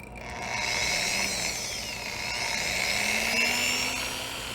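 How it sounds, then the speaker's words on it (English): A drilling machine bores a cylindrical hole into shower cladding material at a trade show, a high whining drill tone rising and falling in pitch over a steady mechanical hum, moderately loud and continuous. "Now we will drill a cylindrical shaped hole into the cladding material"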